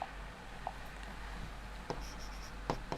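Writing during a Hindi-medium Class 10 maths lesson on arithmetic progressions: faint, steady pen or chalk strokes scratching over a constant low hum, with a few sharper taps and squeaks near the end.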